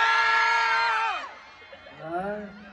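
A concert crowd in Bacolod shouts and screams together on cue, a loud massed yell that sweeps down and fades, followed by a smaller scattered whoop.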